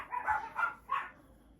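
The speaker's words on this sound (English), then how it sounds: "Sorry, my dogs are barking." Three short, sharp barks from Pomeranian dogs, somewhat distant, in quick succession.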